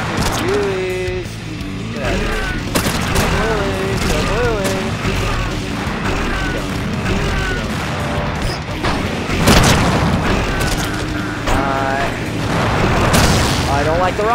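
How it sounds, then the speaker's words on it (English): Rockets fired and exploding in the Slayers X video game, repeated loud booms and blasts over busy game sound effects, with a player talking throughout. "I don't like the rockets being shot at me."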